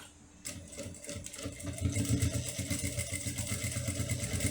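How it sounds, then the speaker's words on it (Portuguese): Sewing machine topstitching a fabric wallet with a 3.5 stitch length, a steady close mechanical whir with a fast regular stitching rhythm running the whole time after a brief quiet start, no voices. "Vou passar uma costura aqui de pesponto."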